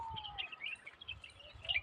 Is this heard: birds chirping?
yes